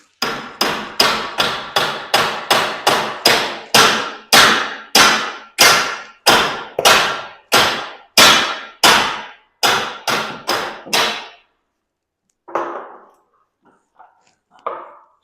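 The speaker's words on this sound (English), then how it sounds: "We have a persuader tool, also known as a hammer." A hammer repeatedly strikes garage door torsion spring hardware hung up on a pipe, a fast series of loud, sharp metallic bangs about twice a second, pausing before a few scattered lighter knocks.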